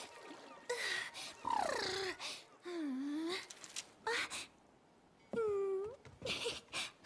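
A cat in the Honor of Kings video game gives a string of quiet, drawn-out meows and wailing cries with rising and falling pitch, separated by brief pauses.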